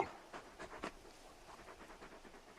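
A big dog in a video game pants in soft, rhythmic breaths, a quiet, fairly close sequence of short huffs with no talking.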